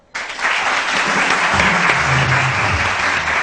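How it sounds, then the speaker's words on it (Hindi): A TV morning show studio audience breaks into sudden, loud, sustained clapping that holds steady to the end, with a faint voice briefly underneath. "तालियां बजाएं।"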